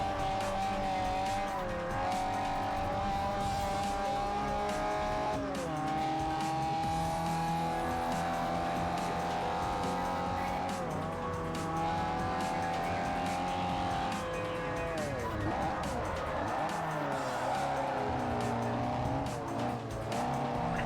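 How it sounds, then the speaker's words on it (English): Tires squeal continuously on a race car in Forza Motorsport 4, a sustained, wavering high whine over a steady engine drone lasting the full stretch, loud and close with no talk. "I have like a built-in strong negative reaction to the sound of tires squealing"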